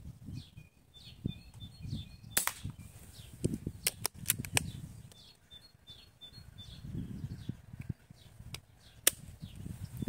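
A Blow H-01 pistol fires Shershen pellets at a 7-meter target outdoors, giving several sharp, fairly quiet shots in irregular pairs, with birds chirping in the background.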